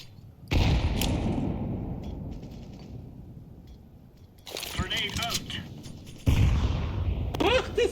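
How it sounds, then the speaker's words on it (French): Counter-Strike gameplay with a grenade blast and bursts of gunfire. Each explosion hits as a sudden loud boom followed by a rumbling decay, and mechanical clicks and gunshots are heard around them. "Grenade out."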